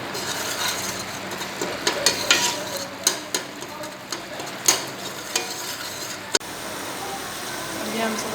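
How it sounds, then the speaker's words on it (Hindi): Masala frying in oil in a pan, stirred with repeated spoon scrapes and knocks over a steady sizzle, with one sharp clack near the end. "भून लेना मसाले को जब तक ऑयल ना छोड़ दें।"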